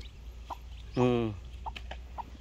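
Newly hatched chicks give a single clear peep with faint scattered chirps around it, close but soft against a low background hum.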